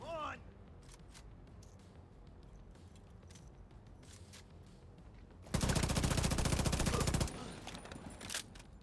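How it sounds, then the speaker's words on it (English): Enemy machine gunners fire in Division 2. After a quiet stretch with faint distant pops, a loud, rapid burst lasts about two seconds, then scattered shots follow. "So many machine gunners."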